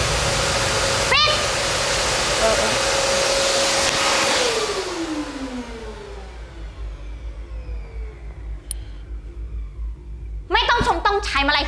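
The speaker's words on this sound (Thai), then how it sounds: "เครื่องดูดฝุ่นน่ะเสียงดังน่ารำคาญ" A vacuum cleaner roars loudly and steadily, then switches off and its whine winds down over a few seconds into quieter room noise. A voice speaks briefly near the end.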